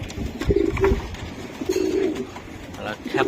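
Racing pigeons cooing in soft, throaty bursts nearby, repeating a few times, with faint background chatter and movement.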